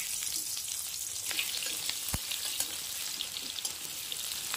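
Chopped onion and garlic fry in oil with panch phoron, a steady soft sizzle with faint crackling pops, one sharper knock partway through.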